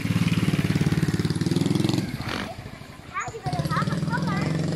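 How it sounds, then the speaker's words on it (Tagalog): A motorcycle passes on a street, its engine buzz loud and close at first, fading as people talk, then returning near the end. "Oh, Daria, may motor"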